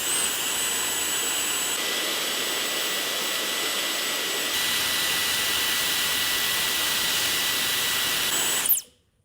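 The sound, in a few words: Dyson hairdryer motor running, removed from housing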